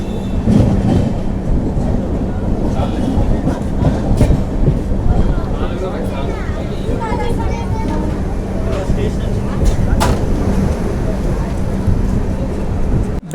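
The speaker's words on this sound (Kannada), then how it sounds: "ನಮ್ಮ ಟ್ರೈನ್ ಬಂತು ಇವಾಗ ಬೆಂಗಳೂರು ಕ್ಯಾಂಟ್ ರೈಲ್ವೆ ಸ್ಟೇಷನ್." The Kacheguda Express (12786) rumbles and clatters into Bangalore Cantonment station, heard from on board with a loud continuous rolling noise, rhythmic wheel clacks and brief squeals, while people talk nearby.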